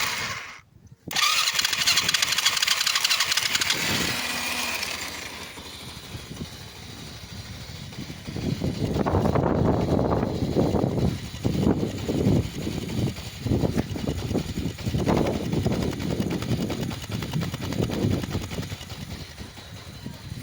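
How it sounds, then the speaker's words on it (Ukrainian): A four-stroke engine running on petrol mixed with two-stroke oil cranks and then catches. It settles into a loud, steady, close running note with a rough, pulsing rhythm and no voices. "Непогано запускається, тільки треба покрутити."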